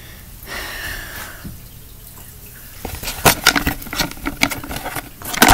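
Small plastic Perler beads pour out of a cup in a rattling patter that starts after a quiet stretch and builds into dense clattering bursts toward the end.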